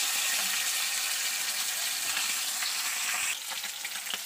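Fish curry with pointed gourd and potato frying in a pan, a steady, close sizzle running throughout with a slight dip and change in texture near the end; no one talks.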